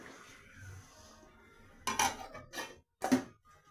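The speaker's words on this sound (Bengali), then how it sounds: "এবার আমি এটা একটু ঢেকে দিলাম, চাপা ঢাকা দিয়ে দিলাম।" A metal lid set onto a cooking pot of simmering fish curry, giving a few sharp, close clinks and clatters over a quiet background.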